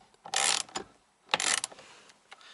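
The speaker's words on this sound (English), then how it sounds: "just get your ratchet and socket and slowly tighten it down until you feel the resistance" Ratchet and socket tightening the steering wheel bolt on an Alfa Romeo Giulia QV, two loud bursts of quick close clicking about a second apart, each followed by a shorter click, with no talking.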